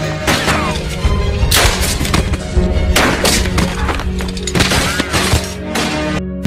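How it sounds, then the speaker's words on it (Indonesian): Gunfire from a war film set among Dutch colonial troops bursts in repeated loud cracks and thuds, several clustered shots spread over a few seconds against a dense background. "Akibat suara tembakan itu membuat semua pasukan tentara Belanda bergegas menuju sumber suara tersebut."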